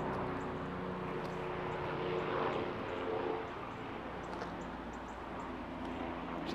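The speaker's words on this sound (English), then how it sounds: "There's a helicopter flying on my shot." A helicopter passes overhead out in the open desert, its steady droning rotor and engine noise filling the background at moderate distance with a slight swell in the middle, no talking.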